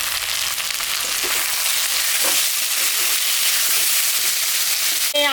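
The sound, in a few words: onions frying in oil for fish curry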